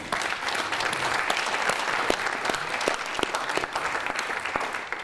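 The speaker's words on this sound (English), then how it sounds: "I've got some round of applause coming from behind" Audience applause at a television industry festival session in 2014, steady clapping from a crowd that fills the whole stretch at moderate loudness, coming from behind the stage.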